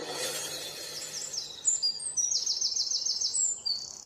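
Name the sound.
birds chirping in a cartoon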